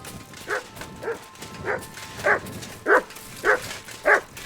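Mutz, a dog in Kingdom Come: Deliverance II, gives a steady run of seven short barks mixed with whimpering whines. They come roughly every half second, growing louder toward the end over a faint outdoor game ambience.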